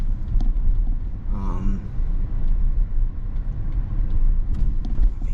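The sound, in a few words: Tesla car driving on road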